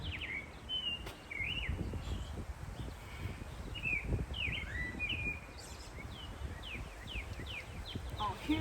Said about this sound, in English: Oh, hear those birds singing, chirping.